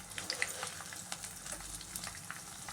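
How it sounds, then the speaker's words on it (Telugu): Crushed garlic sizzling in hot oil for tempering, a steady close crackle with scattered sharp pops, no talk over it. "కొన్ని ఎల్లుల్లిపాయలు వేసుకున్నాం పోపుకండి."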